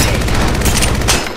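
Rapid automatic weapon fire from the Apex Legends Mobile battle royale game, loud and close in a dense, continuous burst of shots that drops away abruptly near the end, with no talking.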